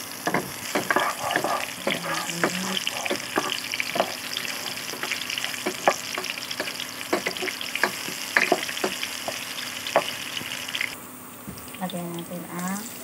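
Onion sizzles steadily in a hot pan for chicken liver adobo, with a spoon scraping and stirring in frequent clacks; near the end the frying drops and faint voices are heard.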